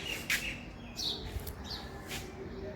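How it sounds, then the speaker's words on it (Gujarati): Sparrows and other small birds chirp outdoors on a sunny morning, a scatter of thin high tweets and short calls over a steady low background hum, moderately close and without talk. "પક્ષીઓનો સરસ મજાનો અવાજ આવી રહ્યો છે."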